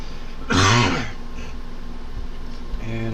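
A person clears their throat with a short burst of rough coughing, close and fairly loud, left over from a recent illness, then quiet room tone.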